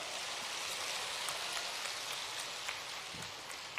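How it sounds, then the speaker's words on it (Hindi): An audience at a chief minister's women's convention rally in Harda claps in a dense, rain-like patter of many hands, faint and steady, with a few sharper claps standing out. "और इस पे तो जोर से ताली बजाओ ना"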